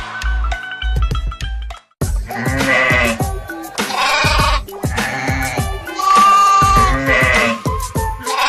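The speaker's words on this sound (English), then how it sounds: "Sheep." Sheep bleat repeatedly and loudly, several wavering cries in a row over a light musical backing, clear and close.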